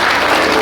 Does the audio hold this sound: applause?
yes